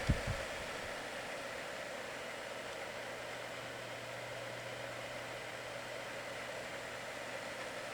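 A Honeywell HTF400 tower fan runs steadily with oscillation switched on, giving a smooth, constant broadband whoosh and a faint low hum. A brief click comes at the very start.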